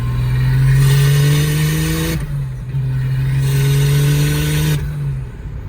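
A Mazda FC RX7 rotary engine revs hard during street tuning while running rich, two rising pulls each climbing in pitch then cutting off sharply, loud and close from inside the car, with no talking.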